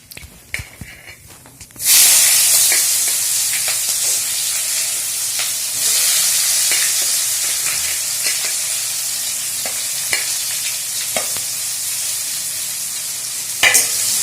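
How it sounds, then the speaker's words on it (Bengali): Onions dropped into hot oil with whole garam masala in a wok for duck curry burst into a loud, steady sizzle that holds continuously, with occasional spatula scrapes and small crackling pops. "আর সাথে সাথে দিয়ে দেবো পেঁয়াজ"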